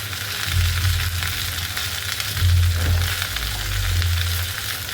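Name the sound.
okra frying in a pan while being stirred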